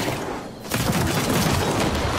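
Big guns on a futuristic battle tank fire in the Trailmakers video game, a dense continuous barrage of loud blasts following a brief quiet moment.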